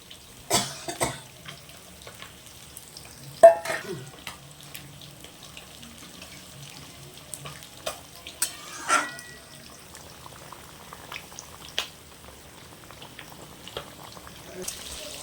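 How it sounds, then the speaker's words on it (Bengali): Fish curry broth boiling in a pan as fish pieces go in, soft bubbling and liquid splashes with scattered pours and clatters, a cough among them, fairly quiet and close. "মাছের ঝোল খুব ভালো করে ফুটেছে, এবার আমি মাছগুলোকে দিয়ে দিচ্ছি"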